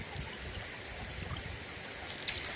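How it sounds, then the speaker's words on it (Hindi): A small mountain stream of cold water pours from a tin spout, a steady soft trickling and splashing rush heard close by without speech. "यहाँ पे देखिए ठंडा ठंडा पानी बह रहा है भाई"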